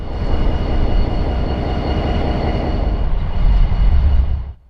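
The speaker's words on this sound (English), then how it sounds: "It was still an amazing treat to see a full-fledged Santa Fe blue bonnet GP20 in the year 2024." Santa Fe blue bonnet GP20 diesel locomotive rolling past up close, a loud, steady rumble and rail rattle sustained for several seconds before cutting off abruptly.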